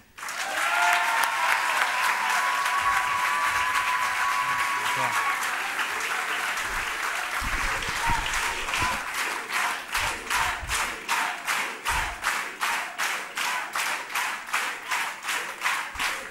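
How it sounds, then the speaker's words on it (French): Audience at a public campaign meeting in Clichy bursting into loud sustained applause with crowd noise and shouts, then settling into rhythmic unison clapping that grows more distinct toward the end. "je vous demande maintenant d'applaudir Julien Pérez."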